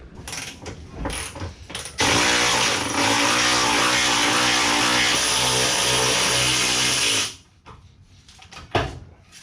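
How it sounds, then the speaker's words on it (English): A power tool undoing a bolt on the fuel tank of a Suzuki Alto Works, a loud sustained buzzing rattle for about five seconds, preceded and followed by handling knocks and clatter. "I'll undo that bolt, and then the whole thing should fall down"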